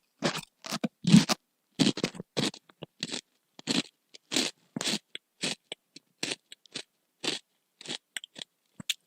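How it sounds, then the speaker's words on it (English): Spicy tortilla chips crunch crisply and close up in an uneven series of sharp bites and chews, with brief gaps of silence between bursts and no talking. "So hear me crunch."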